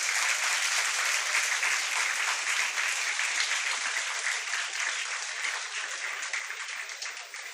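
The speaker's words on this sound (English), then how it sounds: "A round of applause" A school audience at a class ten achievers' felicitation ceremony gives a student a dense, continuous round of applause. The clapping holds strong and steady, then gradually thins and fades toward the end.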